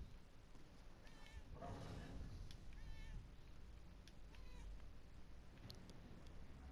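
A cat meows a few times in the video game Murdered: Soul Suspect, faint and high-pitched, against a low background hum while a person talks quietly alongside.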